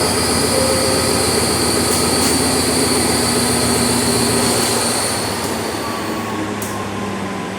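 Thai passenger train 212 from Taphan Hin to Bangkok arrives at Bang Mun Nak station with a loud, continuous rolling roar, sustained high wheel squeals and clattering carriages that ease slightly toward the end.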